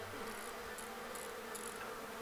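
Bees buzz steadily around a beehive in a video game, a constant close insect drone with brief brighter flutters over a soft background hum.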